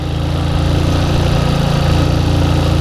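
A motorcycle engine hums steadily and loudly with a constant, even drone while the bike rides and leans through corners on a road.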